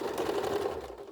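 Sewing machine stitching a synthetic leather wallet, one short continuous burst of rapid stitching, close and fairly loud, with no voice.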